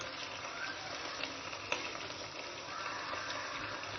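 Chopped ginger frying in a pan, a continuous even sizzle with a few small pops and crackles, soft and close, with no voices.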